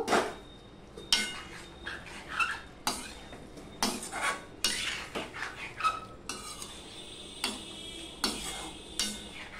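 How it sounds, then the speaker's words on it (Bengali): A spoon stirs bitter gourd and potato curry in a pan after water is added, giving steady, close scraping and clinking strokes in a regular rhythm, with no talk. "আর একটু জল দিয়ে দিলাম, দিয়ে আমি মিশিয়ে নেব।"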